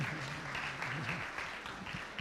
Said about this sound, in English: Can we give him, please, a round of applause?